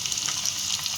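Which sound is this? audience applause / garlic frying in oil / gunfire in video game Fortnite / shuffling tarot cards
garlic frying in oil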